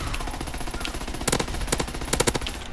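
Gunfire from the video game Call of Duty WWII crackles in short rapid bursts of automatic fire, fairly loud over a steady game background.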